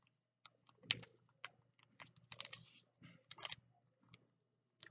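A sheet of paper is folded by hand, edge to center, into an origami seed box. Sparse crisp creases and soft rustles come close up in a quiet room, with no talking.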